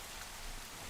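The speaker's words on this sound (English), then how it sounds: "They're getting the rain. It's pretty dark and rainy too, isn't it?" Steady rain falling in the Minecraft video game during a dark storm, a dense continuous hiss with no breaks, loud and close, with no voices.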